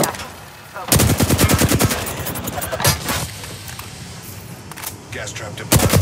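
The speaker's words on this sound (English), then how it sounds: "The enemies are shooting at me." Gunfire in the video game Apex Legends, loud rapid automatic bursts in two main volleys with scattered single shots between, a voice talking in the background.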